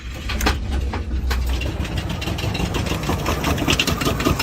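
A worn truck engine with a Jasper engine and about 100,000 miles idles roughly and loudly nearby, leaking oil. Its uneven, rumbling running carries on for several seconds with no talk.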